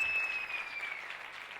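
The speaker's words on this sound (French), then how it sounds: "qu'on donne des acclamations à Jésus-Christ, le roi de roi" A crowd at a gala dinner and church preaching event cheers and claps in a soft, diffuse wash that gradually tapers off, fairly distant and without speech.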